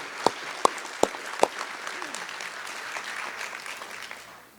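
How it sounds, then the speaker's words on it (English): University convocation audience applauds staff recognition, opening with a few sharp, loud claps before settling into a softer, even wash of crowd clapping that fades out. "So let us applaud Mr. Brown for that recognition."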